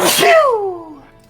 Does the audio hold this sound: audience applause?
no